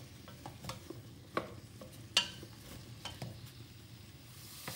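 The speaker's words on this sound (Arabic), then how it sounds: "الطنجرة باش نقلي فيه البصل" Onions sizzle in a cooking pot for a vegetable soup, a soft steady crackle with occasional stirring clicks and scrapes, close and fairly quiet, no talk.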